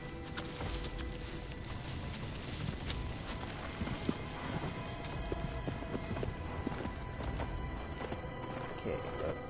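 The horse Agro's hooves in Shadow of the Colossus clop over the ground in a continuous galloping rhythm, mixed into a dense wash of game ambience and wind.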